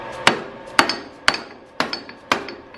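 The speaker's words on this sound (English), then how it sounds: "Hammer. I have no idea how hard or soft this is going to be" Hammer blows on a part of an old tractor under repair, five sharp, loud metallic strikes spaced evenly about half a second apart, each ringing briefly before the next.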